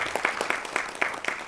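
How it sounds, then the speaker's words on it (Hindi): A theatre audience applauds a stage play, a burst of brisk, fairly close clapping from many hands throughout. "एक बार उनके साथ ताली बजाई उनके लिए"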